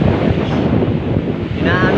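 Strong wind buffeting the microphone over rough sea waves, a loud continuous roar near the water.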